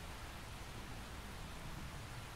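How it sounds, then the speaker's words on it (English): Rain falling in the video game Xenoblade Chronicles X, a steady, soft, even hiss of broadband noise with no distinct drops or other sounds on top. "The rain's starting to let up, just in time for sunrise."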